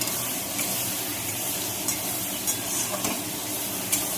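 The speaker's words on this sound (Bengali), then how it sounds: "আর একটু নেড়ে দিলাম। মশলাটা প্রায় ভাজা ভাজা হয়ে এসছে।" Spices and potatoes fry in a pan for a katla fish and potato curry, a steady close sizzle with occasional scraping stirs punctuating the constant hiss.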